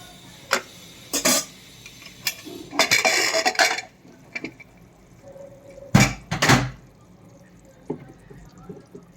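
Lid of a pressure cooker holding mutton and potato curry being worked open, a series of sharp metallic clanks and rattles separated by quiet pauses.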